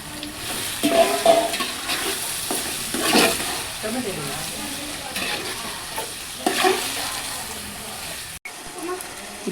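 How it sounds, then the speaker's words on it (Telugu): Chicken for biryani frying in a pan, with clattering stirs and scraping over a continuous sizzle, close and moderately loud; faint background voices drift in at times. "ఇప్పుడు చికెన్ వేసుకుంటున్నాము."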